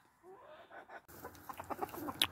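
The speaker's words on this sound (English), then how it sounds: "This is the rooster I wanted mating with this girl." A rooster and hens in a chicken coop cluck in quick, rhythmic bursts, close and moderately loud, with a soft low murmur of birds before the clucking grows busier.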